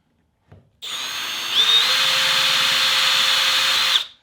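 A power drill bores into the interior trim to mount a Skillard S30 mirror bracket on a Datsun 240Z/260Z/280Z. It makes one steady, close, loud whine of about three seconds, stepping up slightly in pitch partway through, with no talk.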